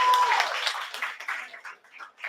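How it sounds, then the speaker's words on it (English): An open-mic poetry night audience applauds the venue and staff, a steady patter of many hands that thins and fades away over a couple of seconds at moderate distance. "give another round of applause for the venue and the amazing staff"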